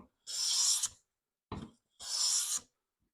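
Stanley No. 40 scrub plane cutting full, wide shavings from a wooden board: two long, loud rasping strokes with a short scrape between them, close and without talk.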